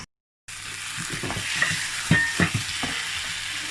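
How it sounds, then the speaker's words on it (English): Fried meat sizzles in a pan as a utensil stirs and scrapes through it, irregular scraping and clattering over a continuous close frying hiss after a brief silent start. "So I'm just going to mix all this together, and I'm going to allow it to cook."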